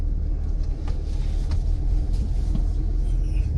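A 2021 Cadillac Escalade ESV large luxury SUV drives along, giving off a steady low rumble of engine and road noise from inside the cabin, continuous and even throughout.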